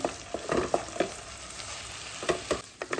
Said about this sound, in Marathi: वरई घातल्यानंतर मात्र चांगलं परतून घ्यायचं